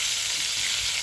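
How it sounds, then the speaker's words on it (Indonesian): Shrimp sizzling in butter in a hot pan, a steady, dense hiss of frying that stays loud and close throughout with no voices. "Ini kita masukin udangnya."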